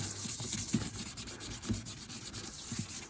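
Sandpaper rubbed across a plastic headlight lens during a quick refurbish of an L322, a steady close scratchy rasp with repeated strokes and no talking.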